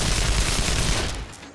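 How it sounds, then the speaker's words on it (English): Dense barrage of rapid gunfire in an action audio drama, a loud continuous burst of overlapping shots with booming low end that cuts off abruptly near the end, no voices. "that was followed by another barrage of bullets which she blocked"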